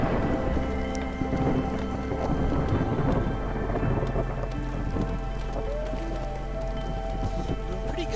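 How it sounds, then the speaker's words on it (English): Steady heavy rain and low rolling thunder from the Against the Storm video game, a dense continuous downpour with deep rumbles underneath and no talking. "the storm itself is getting fairly bad"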